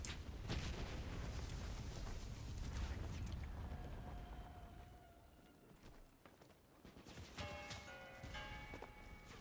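Gunfire and artillery-like blasts from the video game Enlisted rumble through a faint, busy battle mix, easing briefly in the middle before sharper mechanical clatter returns.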